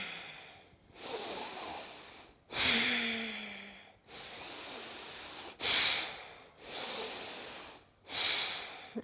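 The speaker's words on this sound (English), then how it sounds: "Inhaling through the nose, forcefully into the belly." Forceful yoga breaths in and out through the nose into the belly during a women's class, six or so long hissing, rushing breaths in steady rhythm, close and clear with no talk.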